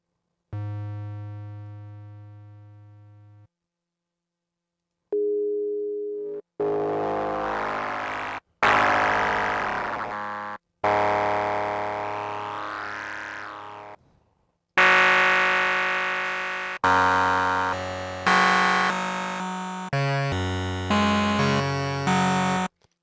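A Reason Thor wavetable synth, its wavetable position modulated by an analog sine oscillator, plays a run of sustained, shifting synth notes. The notes start and stop abruptly, with decaying tails and short gaps between them, loud and heard alone.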